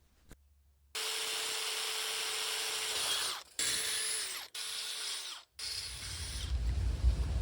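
A power drill whines loudly in several bursts, biting into steel as it drills holes, with brief pauses between passes and a rumbling handling noise at the end.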